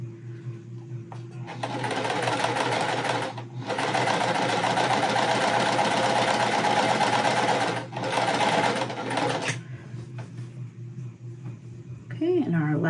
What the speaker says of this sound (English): as I'm sewing them, I'm just putting it right under my presser foot